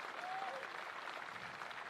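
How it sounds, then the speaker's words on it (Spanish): Applause at an outdoor rodeo qualifier in northern Chile, greeting the Chilean Army engineers' band; steady, fairly distant crowd clapping that runs evenly throughout. "Démosle un fuerte aplauso"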